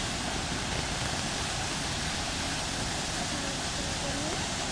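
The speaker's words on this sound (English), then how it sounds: "there is one waterfalls, like mini waterfalls" A small waterfall near a resort outside Ooty gives off a constant, even rushing hiss of falling water, steady and unbroken for several seconds with no other sounds standing out.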